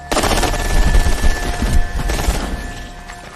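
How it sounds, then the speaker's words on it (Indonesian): Dense, loud bursts of automatic gunfire and rapid shots fill a war-film battle scene set in the Korean War, continuous volleys with crashing impacts throughout and no speech. "karena terlalu banyak musuh yang berdatangan, akhirnya Beom dan Gabjo terkena tembakan"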